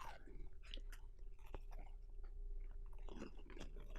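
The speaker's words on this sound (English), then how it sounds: "Some people don't like the sound of chewing." Warm, buttery, fresh-baked chocolate chip cookies being chewed close up: soft, moist crunching and smacking bites repeat for a few seconds over a low, steady background hum.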